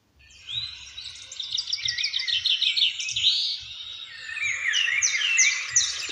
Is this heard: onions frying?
no